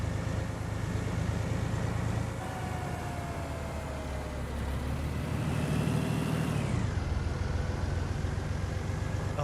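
Farming Simulator 19 truck engine driving steadily with a continuous mid-range drone, moderately loud, with a shift in engine tone partway through and no voices.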